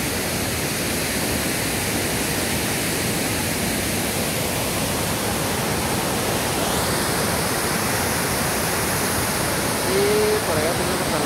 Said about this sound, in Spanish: Esto es Cascada Velo de Novia